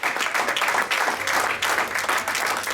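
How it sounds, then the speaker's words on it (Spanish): A church congregation applauds during a Spanish-language sermon, a thick, even wash of clapping that stays fairly loud and steady throughout. "Si le vamos a aplaudir, apláudale fuerte"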